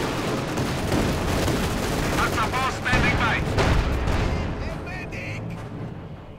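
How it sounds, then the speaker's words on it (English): In the strategy game Company of Heroes 2, machine guns rattle in long overlapping bursts from several positions, mixed with heavier battlefield thuds, loud and dense before tapering off, while a commentator talks over the gunfire. "getting shredded by machine gun fire from numerous sources"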